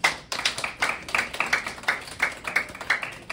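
Group clapping at a worship service in a Castleview nursing home, a steady run of claps with bright bursts at regular intervals, fairly close and filling the room, with no voices over it.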